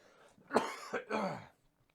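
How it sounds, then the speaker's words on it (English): Two close, hoarse coughs in quick succession, followed by quiet. "The cough is returning now."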